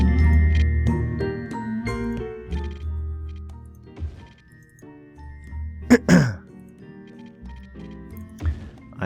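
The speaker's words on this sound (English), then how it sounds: "so that's why I'm coughing and sounding a little bit raw" A man with a cold coughs and clears his throat a few times between stretches of quieter sound, with short raspy bursts standing out near the middle and end.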